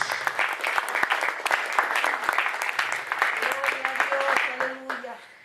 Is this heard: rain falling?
no